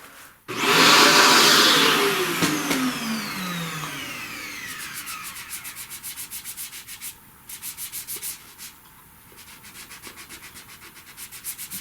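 A loud vacuum motor whirs up and runs steadily close by, sucking up pastel dust from a drawing, its pitch sliding down as it settles, with rhythmic rubbing scrapes underneath.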